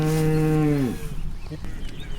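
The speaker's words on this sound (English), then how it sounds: "We just get them in the field, and then we call the cows in" A cow in a Kentucky field gives one loud, close, sustained moo that drops off after about a second, followed by quieter rustling field ambience.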